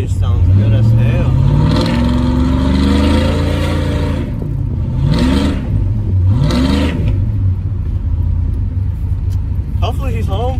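A cammed 5.3 V8 with a new exhaust revs up several times, deep rumbling blips rising and falling close by, with a steady lumpy idle between them.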